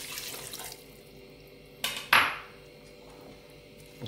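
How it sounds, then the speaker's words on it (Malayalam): Half a cup of water is poured into a pressure cooker over mixed tapioca and coconut oil: one brief splash in the middle, with light kitchen clatter before it in a quiet room. "1/2 കപ്പ് വെള്ളം ഒഴിക്കുക."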